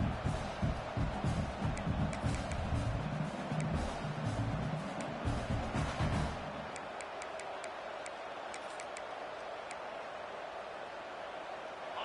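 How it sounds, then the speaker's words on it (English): A football stadium crowd roars during a red zone defensive stand: a dense, loud wash of cheering that fills the first six seconds, then falls away to a quieter murmur. "This crowd is trying to inspire this defense to make a big red zone stop."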